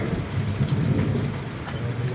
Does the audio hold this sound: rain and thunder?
yes